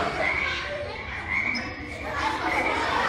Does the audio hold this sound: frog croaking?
yes